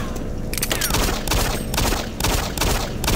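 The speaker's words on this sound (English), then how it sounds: "you want a pistol fight?" Doom 3 gunfire, a dense, loud run of rapid shots and blasts pounding almost continuously with a few brief gaps.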